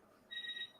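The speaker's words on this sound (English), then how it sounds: "That's a fire alarm." Fire alarm beeping: a single short, high-pitched electronic beep, clear but moderately faint, against a quiet room background.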